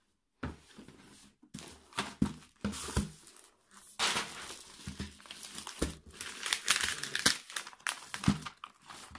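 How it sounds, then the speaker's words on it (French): Wrapping paper on a Christmas gift crinkles and tears as it is unwrapped, with loud, irregular bursts of rustling close by that stop and start repeatedly. "Je déballe et je vous reprends après."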